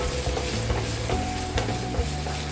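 Ginger and garlic sauté in a pan for masala sundal, a steady loud sizzle with stirring scrapes running throughout, close and uninterrupted.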